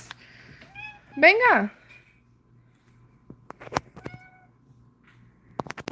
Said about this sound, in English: My little kitty cat.